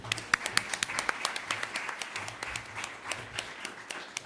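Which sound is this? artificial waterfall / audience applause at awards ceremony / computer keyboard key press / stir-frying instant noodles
audience applause at awards ceremony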